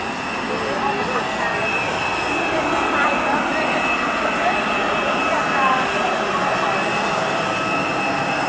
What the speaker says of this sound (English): Well, the plane's just landed.